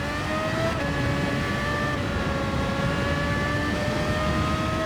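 A race car engine in Gran Turismo 7 holds full throttle, a loud, sustained whine with steady climbing harmonics and no talk over it.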